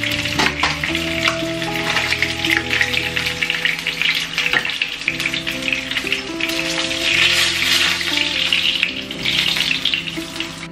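Tilapia sizzles steadily in hot oil in a pan, a continuous close, bright frying hiss with occasional crackles while background music plays.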